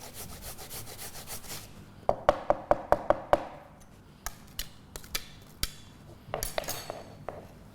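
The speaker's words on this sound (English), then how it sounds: "I'm using a fairly coarse grater here" Ginger root rubbed over a coarse grater, a run of quick, evenly spaced rasping strokes followed by looser, irregular scrapes, close and fairly loud with no talking.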